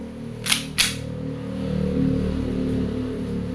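A WE airsoft 1911 Type B pistol is test-fired twice, two sharp close snaps about a quarter second apart over a low background hum.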